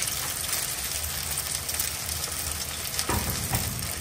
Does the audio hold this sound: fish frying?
yes